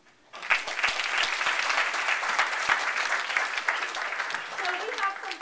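An audience bursts into sustained applause at a library advocacy awards ceremony, a dense, steady crowd clapping that starts abruptly, holds for several seconds and tapers slightly near the end, with faint voices underneath.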